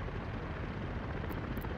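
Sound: helicopters in the video game Workers & Resources

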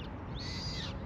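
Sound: small birds chirping

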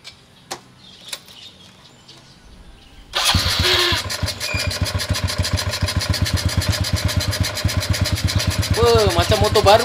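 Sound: motorcycle engine idling

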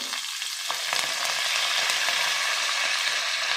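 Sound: frying green chillies, ginger, curry leaves and onions in pan

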